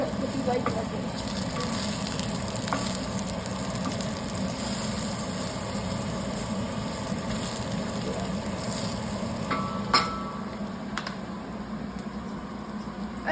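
Onions sauté in a pan, giving a steady broad sizzle that runs unbroken throughout, with a few faint clinks and a soft bump near the end.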